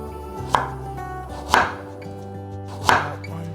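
Knife slicing a peeled carrot on a cutting board, three crisp, separate chops spaced about a second apart, close and clear over soft background music.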